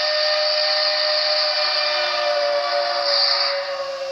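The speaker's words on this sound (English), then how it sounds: "Now when I blow the whistle" Steam locomotive whistle from an ESU DCC sound decoder in a model train, one long steady chord-like blast held loud and unbroken for several seconds before easing slightly at the end.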